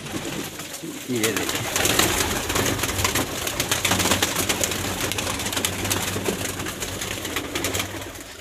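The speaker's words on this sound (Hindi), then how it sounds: "ये माशाल्लाह से इनके कबूतर हैं सारे जो कि अंदर चले गए हैं" Pigeons coo steadily and close by in a pigeon-keeping loft in Pakistan, with wing flutters and rustling throughout and someone speaking briefly at the start.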